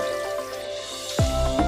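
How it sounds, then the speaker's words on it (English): Water poured from a container into a pot of gizzard meat in a home kitchen gives a short splashing gush near the end, after faint drips and a quiet background hum. "I've got my second batch of water now, guys. Time to pour it in."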